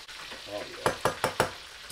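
Tilapia pieces coated in Louisiana fish fry seasoning fry in hot oil with a steady close sizzle, broken by four sharp bursts of crackle and spatter as pieces shift in the pan.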